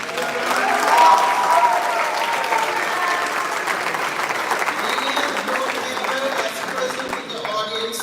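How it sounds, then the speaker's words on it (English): Audience applause fills a high school commencement hall, a dense, sustained wash of many hands clapping at steady loudness for the full stretch, tapering only slightly near the end with a few faint voices mixed in. "Let's give her a round of applause."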